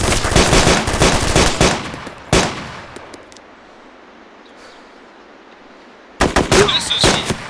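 Sustained machine gun fire in a military shooting video game, dense rapid bursts for about two seconds, a single loud shot, then quiet ambience before another heavy volley of automatic fire near the end.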